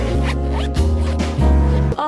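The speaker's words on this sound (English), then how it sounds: "Would you kindly zip it back up?" A zipper on a dress is pulled up in a quick series of close, loud ratcheting strokes, with brief pauses between pulls and no talking over it.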